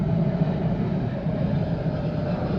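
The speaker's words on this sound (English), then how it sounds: "You guys can hear the planes that fly over my yard every day." Airplanes flying overhead above a backyard, a loud continuous low engine rumble and roar that holds steady throughout with no talk.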